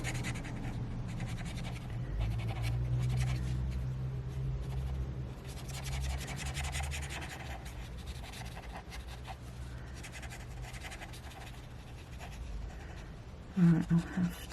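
Arrtx acrylic paint markers scratch and rub across paper in a soft, continuous close-up drawing sound, with some quiet talking underneath.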